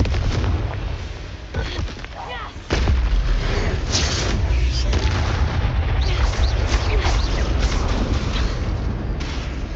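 Booming Confringo blast-spell explosions rumble continuously in the Hogwarts Legacy video game, a loud dense barrage with a sharp heavier burst partway through.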